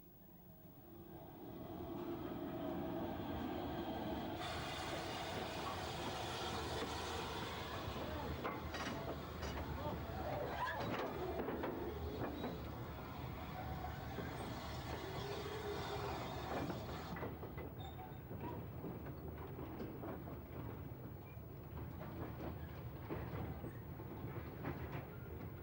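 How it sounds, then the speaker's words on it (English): A long freight train hauled by a Collett Mogul steam locomotive between Kidderminster and Bewdley rolls past with a steady rumble and rhythmic wagon clatter, sustained and fairly loud for the full length, and a faint voice at times. "A long freight ran between Kidderminster and Bewdley behind the Collet Mogul."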